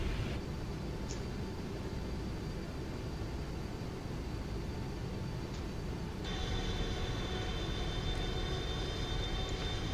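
A Boeing 777-200 in the PMDG flight simulator, its engines giving a steady, even jet roar and hiss throughout, rising slightly in intensity partway through, with no voices over it.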